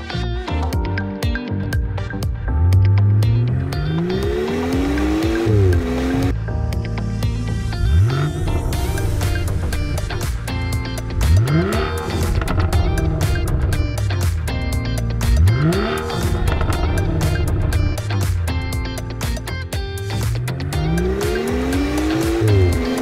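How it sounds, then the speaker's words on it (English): A BMW fitted with the M Performance Power and Sound Kit exhaust drives hard, its engine repeatedly revving up and down through the gears with loud, close, rising and falling pitch and tire squeal. "if you put a custom exhaust system on your car, you can significantly change the way it sounds on the road."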